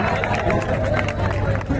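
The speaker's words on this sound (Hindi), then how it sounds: "देवी और सज्जनों, जोरदार तालियों से अभिनंदन।" A parade-ground crowd at the NCC rally in New Delhi gives a short burst of strong applause and cheering, dense and continuous across the brief moment, with a voice carrying over it.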